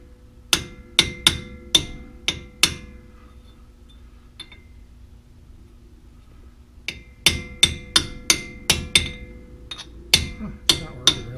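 A hammer hits a metal pipe to knock a brake rotor off a 2003 Ranger: about five sharp, ringing metallic strikes, a long quiet pause, then a second quicker run of about a dozen blows, close and loud.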